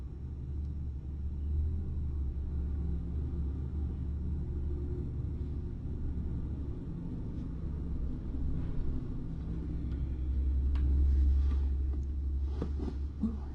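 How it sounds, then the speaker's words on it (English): Trucks rumble outside as a faint, steady low drone with a swell of passing traffic near the end, heard from indoors with no one speaking. "the trucks are noisy out there"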